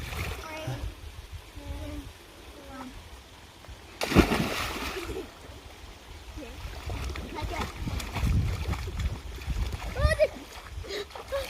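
A person jumps into a cold, spring-fed 1971 backyard pool, giving one sharp splash partway through, surrounded by children and adults talking and calling out at a distance.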